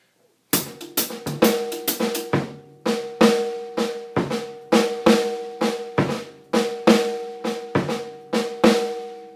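A solo Purdie half-time shuffle drum pattern starting after a short silence, with spaced snare and kick hits and a ringing tone, played alone without the hi-hat.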